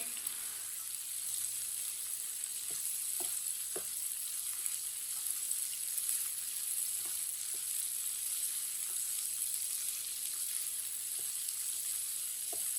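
Chopped okra sizzles steadily as it is stir-fried in a hot pan, with a continuous close frying hiss and scattered scraping stirs throughout.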